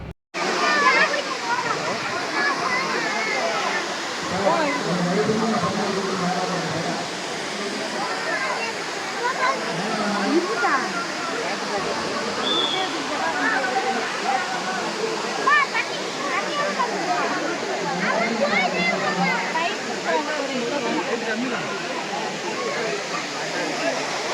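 Muttal Aanaivari Falls near Attur in Salem roars continuously for over twenty seconds, a dense, even wash of falling water heard close up, with people's voices faintly mixed in beneath it.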